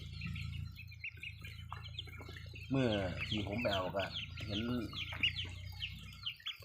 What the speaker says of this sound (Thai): ลูกไก่ง่วงก็มีลูกไก่บ้านก็มี ลูกนกกระทาก็มีครับ